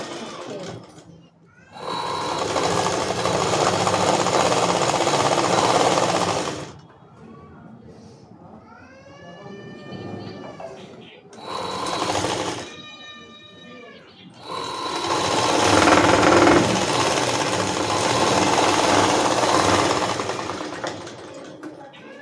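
Sewing machine stitching the front part of a blouse with lining, running in loud bursts separated by quiet pauses in which someone speaks and fabric rustles.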